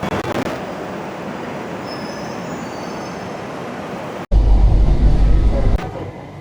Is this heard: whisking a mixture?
no